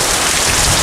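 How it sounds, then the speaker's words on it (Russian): Heavy downpour after a thunderstorm, a dense, loud, continuous roar of rain pouring and splashing onto surfaces, with water streaming down. "Вот это ливень так ливень."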